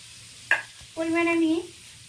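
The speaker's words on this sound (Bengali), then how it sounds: "ভালোভাবে গাজর আর আলুটা আমার ভাজা হয়ে গেছে" Carrots and potatoes fry in oil in a wok with a low, steady sizzle, while a voice speaks briefly over the cooking noise.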